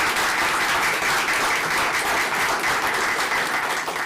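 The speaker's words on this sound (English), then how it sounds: "let's give them a round of applause" Audience applauding a Women in Tech panel at a live Chamber event, a steady wash of clapping from a crowd that holds evenly for a few seconds before tapering slightly.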